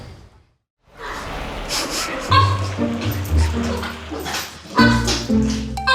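Dogs bark, yip and whimper in a busy vet practice, a burst of near, overlapping barks and whines that fills the room, with a short hush before the noise starts.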